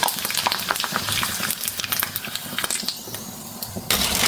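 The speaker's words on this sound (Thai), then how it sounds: "เดี๋ยวเราทอดแบบนี้ไปเรื่อยๆนะคะ" Food frying in a small amount of oil, a steady close crackle and sizzle with scattered spattering pops and occasional utensil clicks, continuous throughout with no talking.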